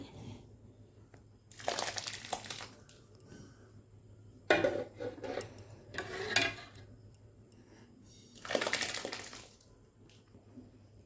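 Khichuri being ladled out of a cooking pot into three separate vessels at home: three bursts of scraping and clattering metal, each about a second long, with a sharp clink in between, close up against a quiet room and no talk.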